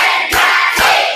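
A class of schoolchildren clapping in a counted rhythm, giving two sharp loud bursts of many hands striking together, close and alone with no talk.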